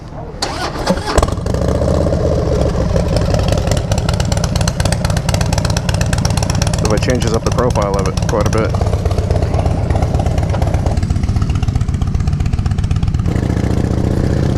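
A Harley-Davidson Dyna motorcycle with newly installed exhaust cranks and fires up, then settles into a loud, lumpy idle with a steady throbbing beat; someone speaks briefly over it.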